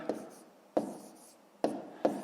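Hand writing out a long-division math calculation, four separate scratchy strokes spaced unevenly, each fading quickly, close and quiet with no voices.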